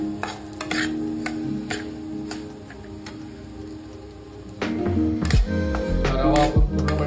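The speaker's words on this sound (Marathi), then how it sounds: "1 कप रवा आहे हा पूर्ण हलवून घ्यायचा आणि ते प्रॉपरली मिक्स करून घ्यायचं आपल्याला" A cup of semolina is stirred into a tempering of chilli, mustard seeds, cumin and oil in a pan, giving close scraping and stirring sounds over a light sizzle, with louder clattering scrapes toward the end.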